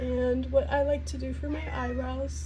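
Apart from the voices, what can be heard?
cat meowing in the background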